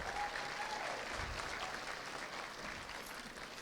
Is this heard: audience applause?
yes